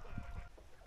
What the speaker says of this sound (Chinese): 从那儿开始，这是鹅。